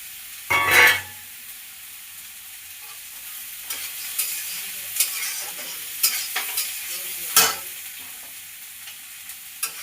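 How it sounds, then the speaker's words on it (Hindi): Almonds fry in a home kitchen pan as a spoon stirs them, giving a soft sizzle under sharp intermittent scraping and clinking strokes. "इसको हम करेंगे फ्राई। ये है बादाम, इसको भी इसी में डाल देंगे।"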